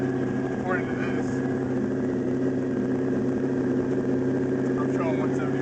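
Twin-turbo LS1 V8 swapped into a Mazda RX-7 FD, idling in a steady, close, even drone while people talk over it.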